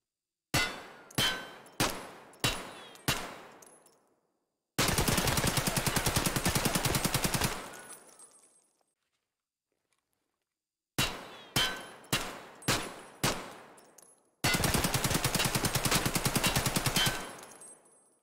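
An AKM rifle fires in Escape from Tarkov: two cycles of five loud, evenly spaced single shots each followed by a roughly three-second full-auto burst, with ringing tails and silent gaps between cycles.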